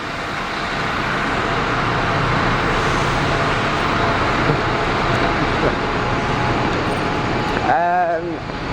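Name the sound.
noisy Dennis Trident bus engine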